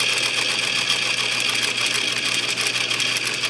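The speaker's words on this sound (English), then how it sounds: "I'm just gonna go and sew all the way around." A sewing machine stitching a Sunday dress, its motor running in a steady, fast, close mechanical whir with rapid needle chatter and no pauses.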